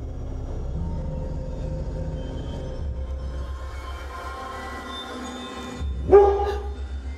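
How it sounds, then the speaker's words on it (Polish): A family dog indoors gives low rumbling growls over several seconds, building to one sharp, loud bark near the end, with no talk. "wgapiał się nagle w coś i zaczynał na to warczeć i szczekać"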